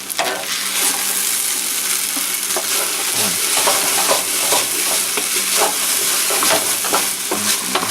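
Hungarian potato pasta cooks in a pot with a bright sizzle while a utensil repeatedly scrapes the sides and bottom, giving irregular scratchy strokes over a continuous frying hiss.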